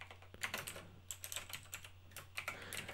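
Close, quiet typing on a mechanical keyboard while writing Go code, a steady run of soft, clicky keystrokes in short irregular bursts over a faint low hum, with no talking.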